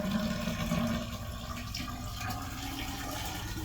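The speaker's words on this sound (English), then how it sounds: "You can hear the water coming up." Water rising in a clogged toilet bowl, continuous close gurgling and trickling that eases slightly after the first second.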